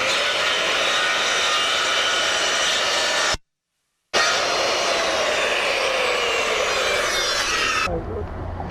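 A power saw whines loudly while cutting a fascia board during a fascia and soffit repair, a steady high-pitched roar with a brief silent gap, then continuing before winding down near the end.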